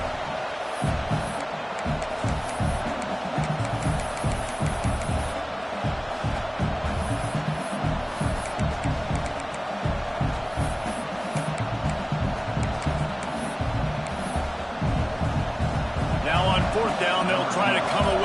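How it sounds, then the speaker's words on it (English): A football stadium crowd roars steadily during a field goal attempt in a game against Texas, a dense, constant wash of voices with a broadcast commentator talking over it. "This crowd trying to do its part to get inside the kicker's head"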